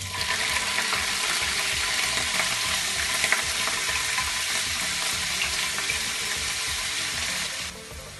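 Paneer fries in hot mustard oil with a loud, dense, continuous sizzle, crackling steadily close by until it eases off near the end.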